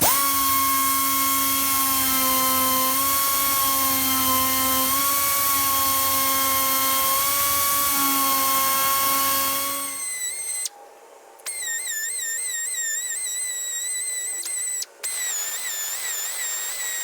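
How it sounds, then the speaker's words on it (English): A barrel sander radiuses the cutout for a Callaway Corvette C7 hood trim ring. Its motor holds a loud, steady whine that wavers slightly as it works, then shifts to a thinner, higher whine with brief breaks. "Barrel sander next, Barrel sander coming up. and we're gonna get the radiuses."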